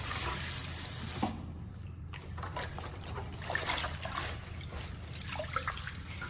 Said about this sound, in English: rinse the green onions 1 to 2 more times with clean water to fully wash away any